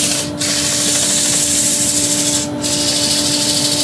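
Sandpaper held against a spinning burr wood bowl on a lathe, a steady close rushing hiss over a constant motor hum, with two brief dips where the paper lifts off.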